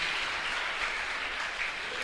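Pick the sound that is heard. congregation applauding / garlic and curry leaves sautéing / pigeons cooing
congregation applauding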